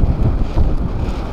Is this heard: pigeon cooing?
no